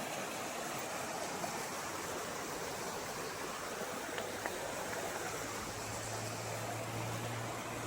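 A stream flowing at a forest picnic spot near Khadurga temple in Gajapati, Odisha, making a steady, even rush of water with a low hum joining partway through, no voices.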